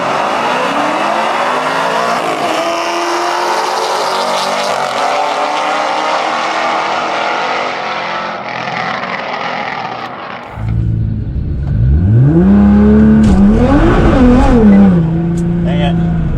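A Nissan GT-R R35 launches hard with its wheels spinning, the engine roaring loud and close as the revs climb, then pulling on. Tire noise and wind come through, and people talk over the sound.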